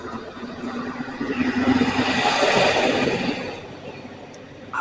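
A truck drives past outside, its rumbling engine rising to a broad roar and then fading away over a few seconds.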